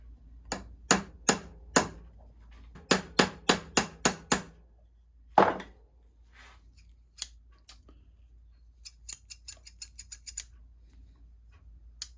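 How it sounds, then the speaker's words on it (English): A hammer peening the pivot of a scissor under restoration: close, sharp metallic taps in quick bursts of three to five, with one heavier strike midway and a faster, lighter flurry of taps near the end. "Now the one last thing I'm going to need to do here is peen this right here"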